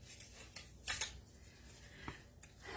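Scissors snip close and faint as they fussy cut a paper black bear, with a few crisp cuts spaced apart over a quiet room.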